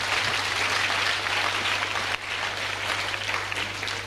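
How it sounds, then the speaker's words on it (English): A church congregation claps together in a steady, dense wash of applause that runs loud and unbroken throughout, dipping only briefly midway before continuing. "Clap for yourselves."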